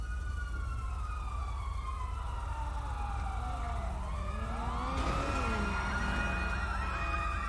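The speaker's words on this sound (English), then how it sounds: "Yeah, I'm hearing the sirens now." Emergency sirens wail continuously with rising and falling tones, several overlapping, growing louder and fuller toward the end.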